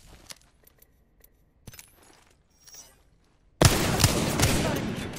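Gunfire in the video game Apex Legends: a few faint clicks and taps, then a sudden loud, dense burst of shots that keeps roaring up close to the end.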